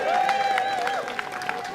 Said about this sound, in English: A round of applause for Andrew Feinstein.